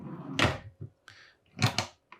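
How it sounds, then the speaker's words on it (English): Drawers under the saloon seating of an Elan Impression 43 yacht slide and knock as they are opened, several quiet, close wooden thuds and scrapes separated by short pauses. "if I could open them, you've got some drawers there"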